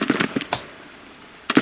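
Gunfire volley in the Civil War strategy game Grand Tactician: a quick cluster of sharp crackling shots, then a short lull and another pair of pops, fairly faint and without talk.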